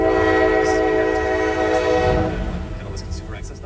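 A train rolls through a road crossing with its horn blaring loud and steady, then the horn eases off while the cars keep rumbling and clacking past up close.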